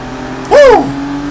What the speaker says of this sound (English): This guy just smoked the tires.